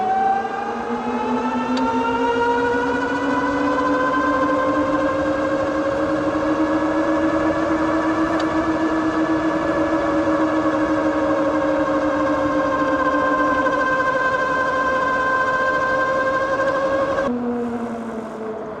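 A RIXOC GT19 electric dirt bike, rated 2,500 watts, climbs a hill at full throttle, its motor giving a loud, steady, rising whine with layered harmonic tones that holds for nearly the whole run, then drops away abruptly near the end.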